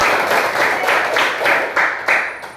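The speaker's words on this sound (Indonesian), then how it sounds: "Tepuk tangan semuanya." A group claps together in a classroom lesson, a dense burst of hand claps lasting a couple of seconds with a few sharper accents near the end.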